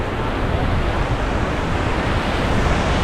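Whitewater rapids on the Kern River roar steadily while rafting, a dense, loud rush of churning water with no breaks.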